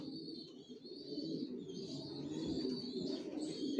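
Racer pigeons coo in soft, overlapping throaty murmurs, close and continuous, with light fluttering and rustling in their loft and no voices.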